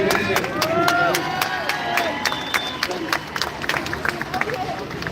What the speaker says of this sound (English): Very big round of applause for Maliki